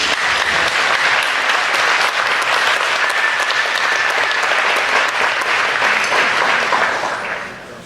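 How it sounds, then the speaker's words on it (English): Audience applause for performers at a dessert concert, a dense, steady roar of many hands clapping close by for several seconds before tapering off at the end. "give them a nice big round warm of applause"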